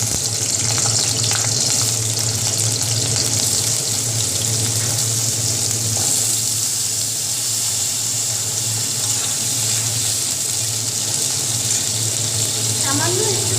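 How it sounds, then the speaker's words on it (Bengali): Potatoes fry in hot oil in a home kitchen, giving a steady, loud, broadband sizzle that runs unbroken throughout, with no voices over it. "গরম হয়ে এসছে, আমি আলুগুলো আগে ভাজা করি।"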